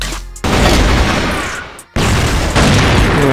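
Loud gunfire and explosive booms from the CrossFire first-person shooter game, dense continuous bursts with a brief drop near the middle before the blasts resume at full force.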